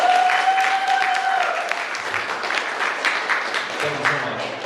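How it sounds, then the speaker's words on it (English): An audience at a community gathering applauds steadily, many hands clapping at moderate loudness with a voice briefly heard partway through. "let's give ECHO a bigger round of applause"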